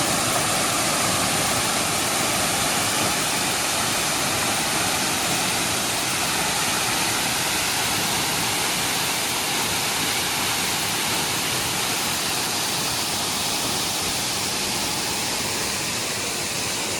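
The Coban Ubud Kembar waterfall in Malang, Indonesia roars steadily, a dense broadband rush of falling water that stays constant throughout, with no voices.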